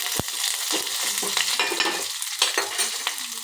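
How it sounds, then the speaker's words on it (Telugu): Garlic, urad dal, green and dried red chillies and curry leaves sizzle loudly in hot oil in a pan while being stirred, with steady frying crackle and repeated scraping strokes throughout. "వెల్లుల్లి కట్ చేసుకున్నది మినప్పప్పు కట్ చేసుకున్న పచ్చిమిర్చి ఎండుమిర్చి కరివేపాకు వేసేసుకోవాలి ఒకసారిలో కలుపుకోవాలి"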